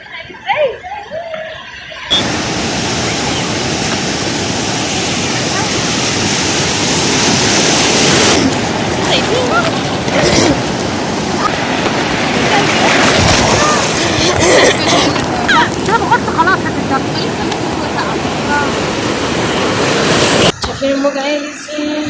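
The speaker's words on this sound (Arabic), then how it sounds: "شايفين الموج عالي ازاي؟" High ocean waves crash and surge continuously on a beach, a loud, roaring wash of surf with heavy wind buffeting the microphone, broken by a short quieter stretch at the start and end.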